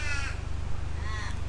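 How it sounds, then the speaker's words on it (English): A crow caws in two short harsh bursts, one near the start and one just after the middle, over a steady low mechanical hum. "And shush, crow!"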